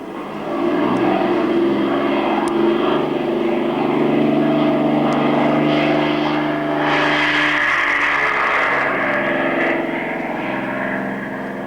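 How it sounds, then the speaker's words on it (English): A propeller airplane taking off: a loud, steady engine and propeller roar that holds throughout, with a rising brighter whine partway through and no talk. "Yes, it was a good takeoff, considering."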